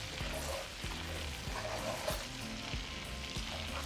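Lemon zest and spices sizzle steadily in melted butter for garlic shrimp, with a stirring utensil scraping the pan in a regular rhythm.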